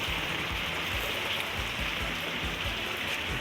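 Heavy rain pouring down in southern Thailand, a dense, steady hiss of water striking surfaces, loud and continuous with no voices.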